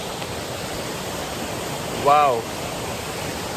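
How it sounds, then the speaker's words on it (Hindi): A waterfall in Goa gives a steady, broad roar of rushing water that fills the whole stretch. A single short exclamation rises briefly over it. "ये देखो झरने से पूरा पानी जो आ रहा है"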